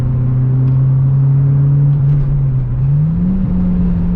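A naturally aspirated car engine revs hard on a track or road drive, a loud, steady droning tone that holds then climbs slightly near the end, with no talk over it.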